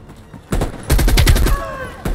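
Automatic gunfire in the Call of Duty Cold War video game, sharp repeated bursts of rapid shots, loud and close, following a short quieter opening.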